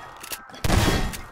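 Gunfire in the strategy game Age of Empires 3, a dense crackling volley of musket shots rising suddenly and rolling on for under a second, loud and alone.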